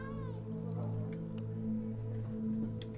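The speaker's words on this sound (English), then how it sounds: "Cats are not happy right now." Cats meowing unhappily, a few drawn-out complaining meows close by over a steady low hum, with no talk.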